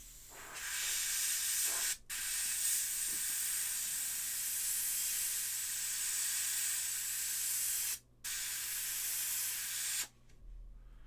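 A long, close aerosol spray paint hiss into a vent on a miniature model, briefly interrupted twice, then cut off near the end; a low hum continues underneath.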